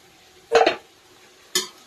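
Duck meat being stirred and fried in a pan with onions gives two quick scraping stirs close up, a short double stroke then a single one after a pause, with only a faint background between them.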